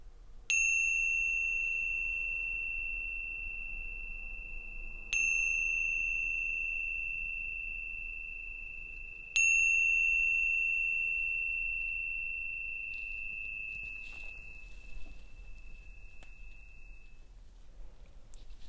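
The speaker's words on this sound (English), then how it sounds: "gently opening to receive the sounds of the bell" A meditation bell rings three times at even, unhurried intervals during a guided body scan. Each clear, pure strike lingers and slowly fades in an otherwise quiet room.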